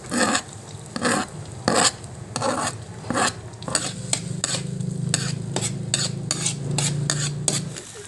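Butter and garlic sizzle in a pan while being stirred for butter garlic shrimp, a steady frying hiss broken by repeated scraping strokes of a utensil against the pan, close and loud with no talk.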